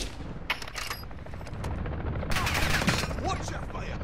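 Rapid gunfire from a Call of Duty video game, with bursts of automatic shots crackling in close succession and growing denser toward the end.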